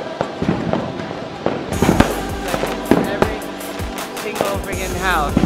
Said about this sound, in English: Whoa! Fireworks everywhere!